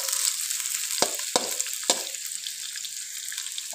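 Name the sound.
sliced onion frying in chicken handi pan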